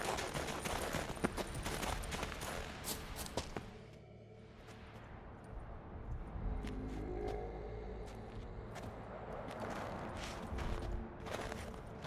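Horse hooves clop along in The Witcher 3, mixed with crunches, clatter and rumbling game ambience, fairly faint and irregular over the whole stretch, with no speech.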